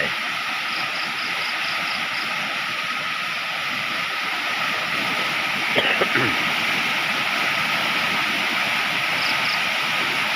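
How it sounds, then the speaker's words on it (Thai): Rainwater running and trickling outdoors after a heavy downpour in a rural village, a steady wash of flowing water with insects chirping in the background and a brief knock partway through. "ครับพี่น้องเบื้องน้ำน้ำไหลนะครับ น้ำไหล"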